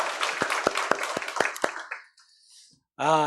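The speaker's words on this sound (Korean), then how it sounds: "우리 하나님께 영광의 박수 올려드리겠습니다" A church congregation at a Korean Sunday worship service claps in a loud, rhythmic burst of about seven strong beats. The clapping fades into near silence, then a voice begins speaking.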